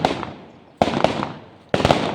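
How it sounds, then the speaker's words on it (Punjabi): Firecrackers burst outdoors in three sharp, loud cracks spaced about a second apart, each ringing out in a long, fading echo. "ਡਰਦੇ ਪਏ ਆ ਪਟਾਕੇ ਚੱਲਦੇ ਪਏ ਆ"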